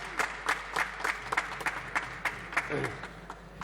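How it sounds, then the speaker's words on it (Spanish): Applause fills a legislative session hall, brisk rhythmic clapping from a group that rises and falls in bursts, with some crowd murmur underneath and a brief voice near the end. "Un aplauso para él."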